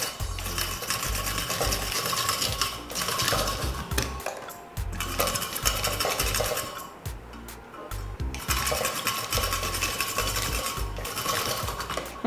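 A Salad Master food processor chops carrots with a loud, continuous, close mechanical whirring and rattling, pulsing in three longer runs separated by brief dips, with no speech over it.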